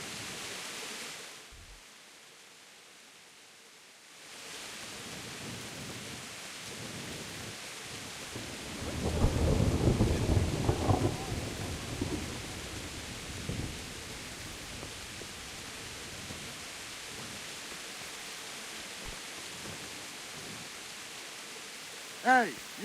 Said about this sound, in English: The storm will soon end.